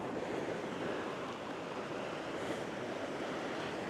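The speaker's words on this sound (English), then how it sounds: "that's quite a naughty swell that keeps coming in" Heavy sea swell rolling onto the Northumberland coast during a light southerly breeze, a steady broadband wash of surf with wind noise buffeting the microphone, continuous and fairly loud with no talking.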